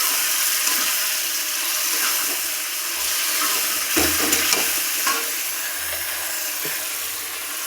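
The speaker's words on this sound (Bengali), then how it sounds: "মাংস দিয়ে ঢেলে দিয়ে কষাবো" Meat is fried and stirred in a spice mix of onion, garlic, dried chilli, cumin and ginger, giving a steady close hiss of sizzling oil with occasional scraping stirs of the spoon against the pan.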